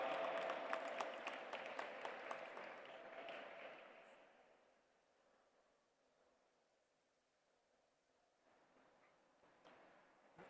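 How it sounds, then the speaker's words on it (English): Applause from a summit audience greets a speaker being welcomed to the stage at an interfaith peace gathering. Dense clapping starts loud, thins after a few seconds and trails off, with a few scattered claps near the end. "Please put your hands together and welcome with a big round of applause"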